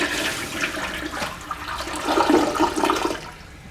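A toilet in a tiny house flushes with its newly installed PEX water supply, a close, steady rush of draining and refilling water heard alone for several seconds.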